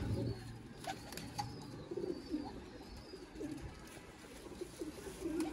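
Sialkoti breeder pigeons coo softly and repeatedly at a loft, low murmuring calls with occasional wing flutters and faint background noise.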